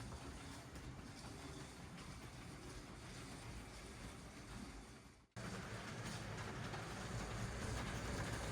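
A LEGO North Pole Railroad train runs around a layout with a steady, close rattling rumble that continues throughout, broken by a brief dip before carrying on slightly louder.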